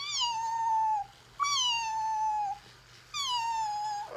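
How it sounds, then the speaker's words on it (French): Three drawn-out, plaintive meows from a female cat, each about a second long with short gaps between, clear and close in a quiet room. "son miaulement est très, très plaintif, en fait"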